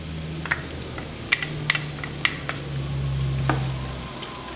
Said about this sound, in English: Now we're going to add our minced garlic.